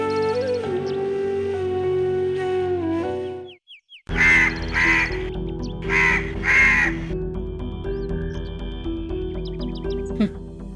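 Several crows caw in repeated bursts of harsh calls, alone after a sustained musical tone fades, with faint chirps and other bird calls around them.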